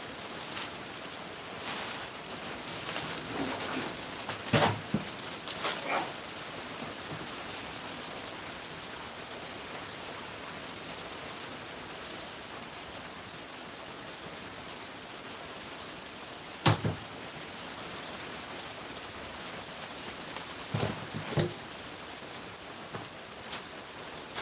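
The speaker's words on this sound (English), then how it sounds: "so you should be able to hear the rain real well" Rain falling at an off-grid desert homestead: a soft, even hiss of steady rainfall close by, broken now and then by sharp louder drips or taps, with no one speaking.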